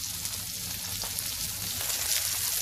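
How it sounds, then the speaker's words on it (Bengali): Rui fish frying on a tawa, a close hiss of spitting oil with small pops scattered through it, steady and uninterrupted by talk. "মাছগুলোকে এভাবে আমরা ভেজে নিব।"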